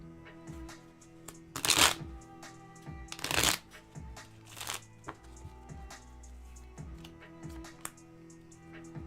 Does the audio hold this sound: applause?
no